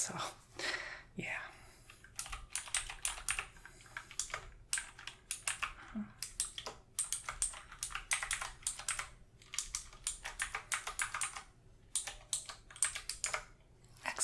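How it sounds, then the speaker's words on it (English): Rapid, continuous typing on a computer keyboard, close and fairly loud, in bursts with short pauses, with faint whispery voice sounds underneath. "Sorry if my keyboard is loud and annoying."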